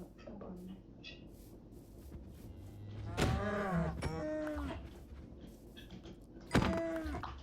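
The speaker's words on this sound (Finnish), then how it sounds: "Täällä on lehmä." A cow in Minecraft moos several times, drawn-out lowing calls over a steady game background hum, with a final louder moo near the end.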